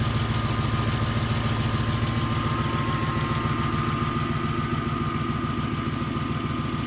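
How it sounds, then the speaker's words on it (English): A 1990-1994 Lexus LS400 engine idles steadily after an ECU replacement, a smooth, even, close-up hum with a faint high whine, continuous and alone without talk. "We'll just let it idle for a while and let it kind of figure out its new brain."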